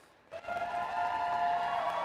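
Robotics event audience erupts into a sustained, shrill cheer for the Blue Alliance, starting abruptly and holding steady to the end.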